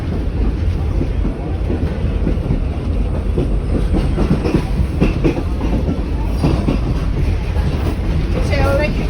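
Mary Valley Rattler heritage train running on rails from Gympie to Amamoor near the Mary River crossing, a continuous close rumble with rhythmic clickety-clack of wagons and wind buffeting the microphone throughout.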